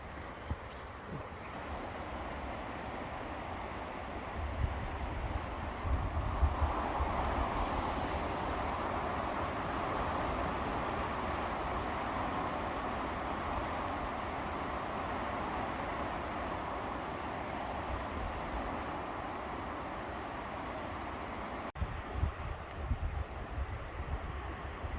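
A train rolling along the railway near Killiecrankie in the Scottish hills, a steady rumbling wash heard from a distance and held at an even level throughout, with a brief clatter near the end and no speech.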